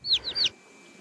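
Bird calls in a short burst of three rising harsh cries, close and fairly loud, then quiet; a crow calling outdoors.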